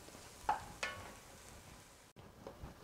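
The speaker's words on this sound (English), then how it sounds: "we want to get the meat cooked now, which isn't going to take too long. So I'll keep stirring this" Turkey meat sizzles quietly in a pan during stirring, with two soft scraping strokes standing out early and a faint, steady frying hiss continuing underneath.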